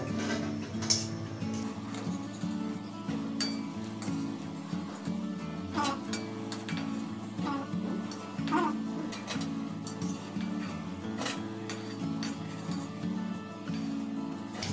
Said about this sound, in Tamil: தட்டில் போடும்போதே பாருங்களேன் கலகலன்னு சவுண்டு வருவாங்க